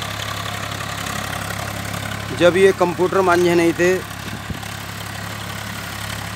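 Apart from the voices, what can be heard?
Swaraj 855 FE tractor engine running with laser leveler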